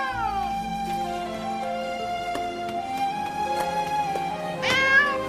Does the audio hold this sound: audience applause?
no